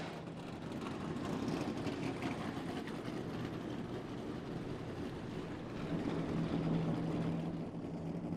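NASCAR stock car engines fire up at the start of the 2018 Toyota Save Mart 350, a constant broad roar heard from a distance that swells louder toward the end, with no talking.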